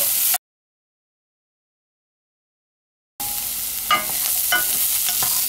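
Onions frying in a pan, a sizzle with stirring, cut off by a stretch of silence before the sizzling resumes with a few sharper crackles and scrapes.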